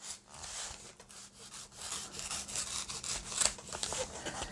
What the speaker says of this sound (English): I'm also going to open the seam on the side too